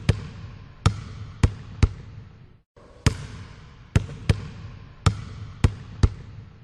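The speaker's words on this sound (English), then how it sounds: "Answer. Dribbling a basketball." A basketball dribbled on a hard floor, sharp bounces in an irregular rhythm with a brief pause midway, close and loud with no other sounds.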